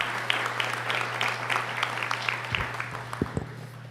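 A college convocation audience applauds departing performers, a broad, steady patter of clapping over a low mains hum, thinning toward the end, with a few close thumps near the finish.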